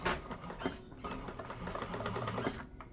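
A sewing machine basting a quarter-inch seam along the raw edge of fabric for a vintage-style handbag runs in a close, steady, rapid whir with slight speed changes and no talking.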